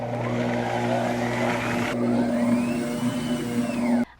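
A NutriMill Artiste stand mixer runs steadily on its lowest speed, working a whole wheat dough studded with dried berries and nuts, a close, continuous motor whir with a rhythmic churning that stops abruptly near the end.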